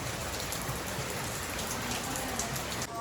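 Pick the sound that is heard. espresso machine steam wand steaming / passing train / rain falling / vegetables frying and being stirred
rain falling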